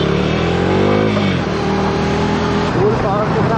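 A KTM Duke 200 motorcycle running close by, its engine humming loud and steady with rising and falling revs, a couple of pitch sweeps as the throttle opens.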